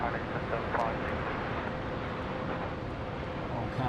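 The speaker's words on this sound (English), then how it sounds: "Okay, China Eastern cleared for takeoff." A China Eastern airliner takes off from runway 34 left at Sydney Airport, its engines a steady, loud broadband roar with no clear rise or fade across the stretch, and faint radio-style voices mixed in beneath it.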